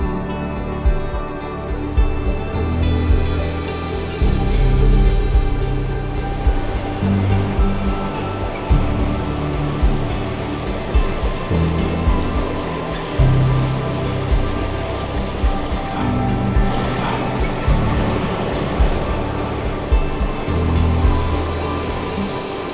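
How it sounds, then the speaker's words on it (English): Waterfall in Mauritius heard from the top of the falls, a steady, loud rushing roar of falling water with low rumbling surges throughout. "I think I'm at the top of the waterfall now"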